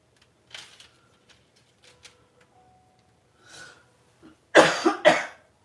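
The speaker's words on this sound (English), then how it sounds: "I turned away and coughed into my shoulder." A person coughs while making butterscotch haystacks in a kitchen, giving two sharp close coughs near the end after a few quieter breaths and small noises.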